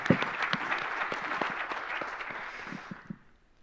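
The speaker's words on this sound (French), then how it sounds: "On peut applaudir Yves de la Fond." Conference audience at a startup event on African digital innovation breaks into steady applause for a speaker, many hands clapping at once and tapering off to near silence by the end.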